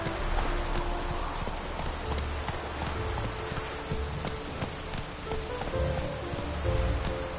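Steady rain hisses down in The Witcher 3 video game, a soft, constant patter. Intermittent hoofbeats from a horse clop underneath it.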